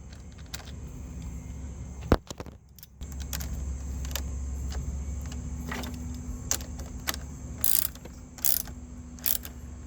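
Ratchet tightening a 10 mm battery terminal bolt on a 2014 Mercedes-Benz CLA 250, quick bursts of clicking and metallic clatter over a low steady hum, close and fairly quiet, no talk.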